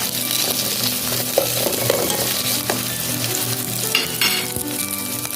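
Garlic powder fries in hot oil in a pan for ginisang monggo, giving a steady, close crackling sizzle with occasional stirring scrapes.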